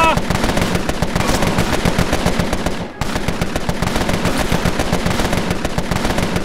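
Rapid, dense bursts of automatic gunfire lay down suppressing fire in the turn-based video game Empire of Sin, a continuous loud clatter with a brief dip near the middle.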